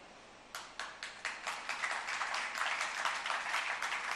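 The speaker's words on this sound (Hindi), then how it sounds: "क्यों तालियां क्यों बज रही?" Applause breaks out from an audience during a Hindi religious sermon by a Jain monk, starting with a few scattered claps and swelling into steady, dense clapping that carries on to the end.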